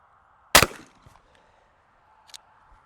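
Single shotgun shot at a clay target, a sharp loud crack with a short decaying tail, followed by quiet and a faint distant click.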